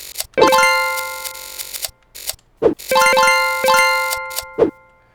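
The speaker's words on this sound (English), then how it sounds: "So my jump sound works great." Short jump sound effects from a Unity video game repeat several times, bright tonal blips with clicky transients, close and clean with brief silences between.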